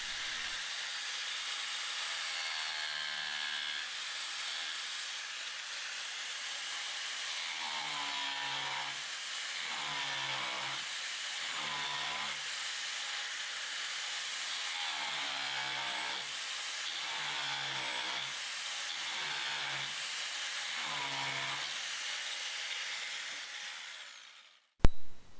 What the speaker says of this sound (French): vous pouvez traiter la pince avec la meuleuse d'angle